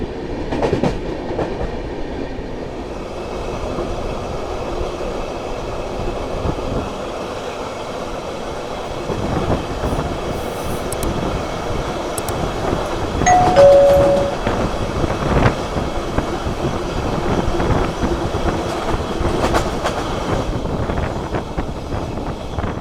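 A Madhya Pradesh Sampark Kranti Express train runs at speed, with a steady loud rumble of wheels and carriages, rattling clicks and a brief louder swell midway, continuous throughout with no talk.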